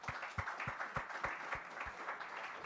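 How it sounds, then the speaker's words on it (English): Conference audience at a SADC sustainable energy week event applauding a panel, a soft, distant-sounding spread of clapping with a few sharper claps keeping a loose steady rhythm throughout. "please join me in a round of applause for the panel"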